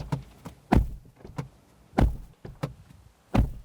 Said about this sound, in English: And this is what the door slam sounds like.